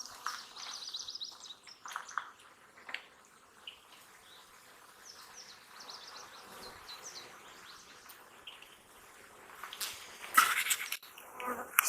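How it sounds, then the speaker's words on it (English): Honey bees from a Russian colony with Carniolan queens drone and buzz around an open hive, a faint steady hum with individual bees zipping past nearby, louder near the end. "There actually seems to be more bees in this hive."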